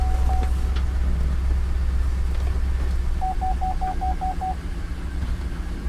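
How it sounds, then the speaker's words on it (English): A Suzuki Sidekick engine idling with a misfire, a low, uneven rumble heard close throughout, with a short series of electronic beeps partway through. "It runs, but it's misfiring."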